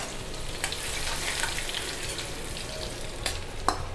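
Mustard seeds, urad dal, curry leaves and ginger crackle and sizzle in hot oil, a dense frying hiss with sharp pops and spatters close up, steady for a few seconds with no voice over it.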